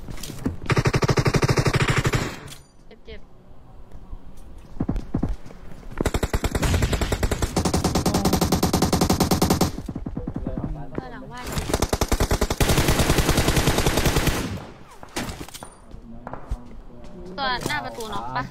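Gunfire in a Thai-played shooter video game: several long bursts of loud automatic fire separated by brief pauses, with excited voices talking between and over the shots.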